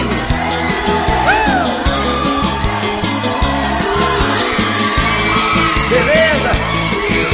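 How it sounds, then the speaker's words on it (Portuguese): A crowd at a live brega pop concert screams and cheers continuously, loud and dense, over pulsing band music. "Esse grito tá lindo."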